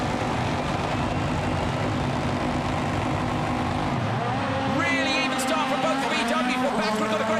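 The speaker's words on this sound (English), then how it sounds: "Ready to race, revs are up." Rallycross cars at the start line of a World Rallycross round at Lydden Hill, engines revving together in a loud sustained roar that rises in pitch near the end, with commentary over it.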